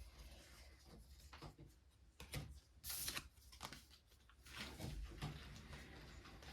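Playing cards slide, rub and slap softly in the hand, with a few brief dropped-card flicks and shuffling rustles, close and fairly quiet.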